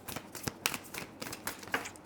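A deck of tarot cards is shuffled by hand in quick bursts of riffling flutter and soft slaps, close and steady with no voices.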